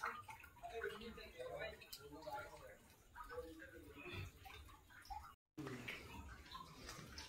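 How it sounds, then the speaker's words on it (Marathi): Water drips from a wet rock ceiling inside a hillside fort cave after rain, with faint irregular ticks and splashes under a soft background hiss and someone speaking nearby. "पाणीवरून टपकते पावसामुळे."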